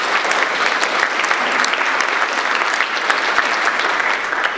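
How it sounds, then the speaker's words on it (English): Diners at a philanthropy award dinner applaud, a steady, even wash of many hands clapping at moderate distance throughout, with no speech over it. "Please give them a round of applause."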